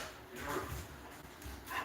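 Dogs being herded into a kennel room indoors whimper and give soft, muffled barks that come and go at moderate distance over a steady background hum, with no clear talking.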